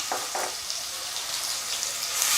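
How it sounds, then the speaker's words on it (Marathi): Curry leaves and a ground coriander-chili paste fry in a hot pan, giving a steady close sizzle with a couple of brief louder bursts near the start. "ताजा ताजा कढीपत्ता आहे सोबतच आपण जे वाटण करून घेतलेलं होतं कोथिंबीर मिरची त्या सगळ्याचं ते टाकायचं"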